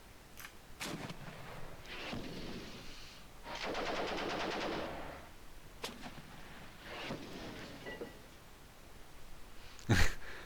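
Tank machine-gun fire in the Armoured Commander 2 video game, several bursts of rapid rattling shots separated by pauses, with a sharper loud impact near the end.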